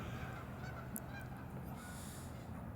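Geese honking from a flock near Eagle Creek, west of a golf course, heard at a distance as scattered calls over steady low background noise.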